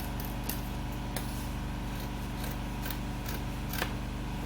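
Scissors snip through jacket fabric in a few sharp, separate cuts spread across the stretch, fairly faint over a steady low hum with no talking.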